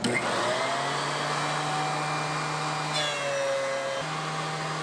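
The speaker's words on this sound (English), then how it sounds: "you want to run a board through your planer until it has touched or planed all of the surface off" A DeWalt DW735 thickness planer running a board through, a loud steady motor whine and rushing air with a tonal hum that shifts pitch partway, continuous and close with no speech.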